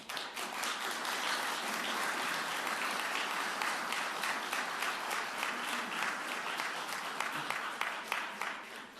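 An audience applauds at a Carbondale city council meeting, a dense, sustained round of clapping for about nine seconds that thins out slightly toward the end.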